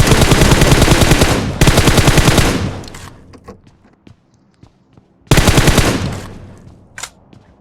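Rapid automatic gunfire from PUBG in two long loud bursts, a gap with scattered quieter shots and footsteps, then another loud burst.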